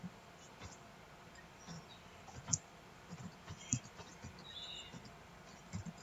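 Light, irregular clicking of keys being typed on a computer keyboard, close by and fairly quiet, with a few sharper taps.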